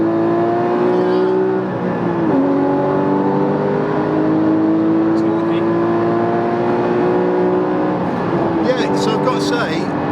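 A Porsche Cayman 981 GT4 engine revving and accelerating hard, a loud rising harmonic howl that dips briefly at gear changes and climbs again, heard from inside the car.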